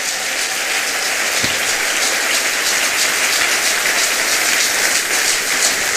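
A church congregation claps and applauds in a dense, steady roar of hands that fills the room evenly from start to finish, with no voices standing out above it.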